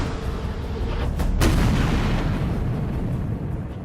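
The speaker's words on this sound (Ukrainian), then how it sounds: "Постріл!" An artillery gun of the Khartia Brigade fires a single shot near Kharkiv. A sharp, loud boom breaks through steady background rumble and is followed by a long rolling low tail.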